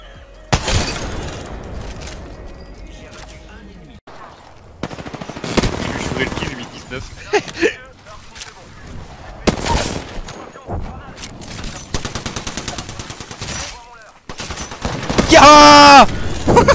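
Gunfire in the video game Apex Legends, with scattered shots and short rapid bursts over a busy game soundscape, ending in a loud cluster of impacts. Players talk over the action.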